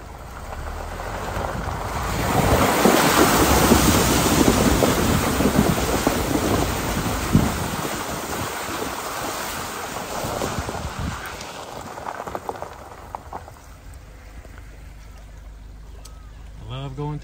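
A vehicle rolls through a creek crossing in the country after rain, a loud rushing wash of water and splashing that builds early, then gradually fades to quieter rumbling, with a voice briefly heard.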